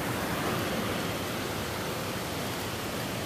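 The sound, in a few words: waterfalls, rushing water in a gold-panning stream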